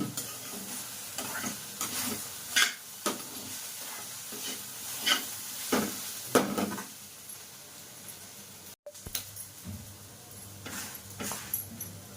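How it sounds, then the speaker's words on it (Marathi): Potatoes fry crisp in a pan, a steady sizzle broken by repeated stirring scrapes and clinks, close and fairly quiet, with no one talking. "बटाटे बघा आपले असे थोडे खरपूस भाजले"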